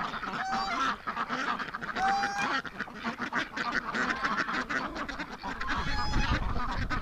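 Female ducks calling on a snowy winter farm, mixed with geese, a busy flock of overlapping honks and quacks that carries on steadily and loudly throughout.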